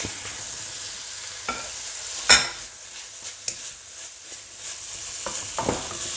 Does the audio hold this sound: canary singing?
no